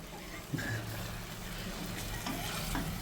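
Prawn masala for Thalassery biryani sizzles steadily in a pan, a continuous close frying hiss with faint stirring sounds.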